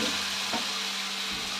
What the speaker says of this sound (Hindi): ये मसाला थोड़ा भून जाए।